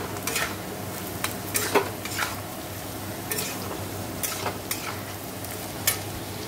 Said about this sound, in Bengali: আর এদিকে দেখো আলু ভাজাটা এই যে হচ্ছে।